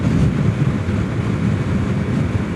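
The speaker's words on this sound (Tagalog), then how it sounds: "Lakas ng hangin." Strong wind buffets the microphone in a constant heavy rumble at a fishermen's wharf in Taiwan, with open water and waves faintly audible beneath it.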